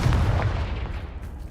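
Confringo fire spell blast in the Hogwarts Legacy video game, a deep booming burst with a rumbling low body that fades out over a second and a half.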